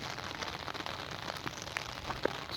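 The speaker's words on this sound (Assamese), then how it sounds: "বৰষুণ, দুইটাই ছাতিৰ তলত এতিয়া।" Rain falls on an umbrella held over two people, a soft steady patter with occasional louder drops tapping close by, and no talk during the clip.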